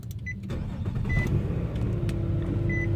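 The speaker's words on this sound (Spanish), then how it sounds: "Vamos de nuevo a prenderlo." A 2008 Nissan Altima 3.5 SE engine cranks and catches after a short pause, then settles into a steady close-up running rumble with a faint high whine over it.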